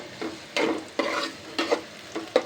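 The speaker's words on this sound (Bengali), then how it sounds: "লতির জন্য কড়াই বসিয়ে দিছি। এখানে পেঁয়াজ আর রসুন দিয়ে দিলাম।" Onion and garlic fry in a wok, a close, steady sizzle broken by four or five distinct stirring scrapes in an uneven rhythm.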